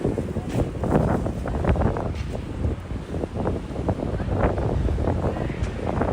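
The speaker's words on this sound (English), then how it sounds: "Here in the very windy Hudson Yards." Gusty wind buffets the microphone at Hudson Yards in New York, a constant rough rumble with swelling bursts, while faint city background sits underneath.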